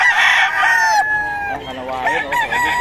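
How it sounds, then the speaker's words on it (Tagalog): A loud, close rooster crow rings out, followed by more overlapping crowing and clucking from several birds nearby. "Talagang ready to go na ang mga manok ni Boss Russell"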